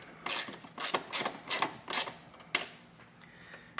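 Torx T15 screws being tightened on the airbox of a Mercedes-Benz GLA 250, a series of short, close mechanical clicks and ratcheting bursts spaced roughly every half second, with no talk.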